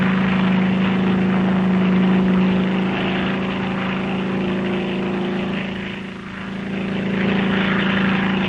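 A Royal Navy helicopter flies steadily overhead during a cattle-lifting operation, its rotor and engine drone continuous and fairly loud, dipping briefly before swelling again, with no voices.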